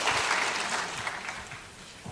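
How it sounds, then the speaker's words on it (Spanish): Applause for a speaker at a Catholic lay assembly of the Archdiocese of Puebla, a short stretch of crowd clapping that fades gradually. "Un aplauso a Delfina."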